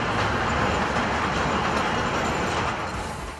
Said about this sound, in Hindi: अमूमन ज़मीन पर चलने वाली रेलगाड़ी ज़मीन से ऊपर खुली फ़िज़ा में रूब सफ़र है